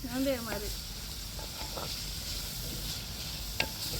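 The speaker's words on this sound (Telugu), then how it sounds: "ఉల్లిపాయలు వేగిపోయినాయి కదా" Sliced onions sizzle in hot oil in a pan for prawn pulao, a steady frying crackle with a brief stir near the start and a small clink later, heard alone without speech.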